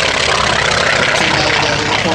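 A propeller-driven warbird roars loudly and steadily past at an airshow, its dense engine and prop noise filling the whole stretch without letup.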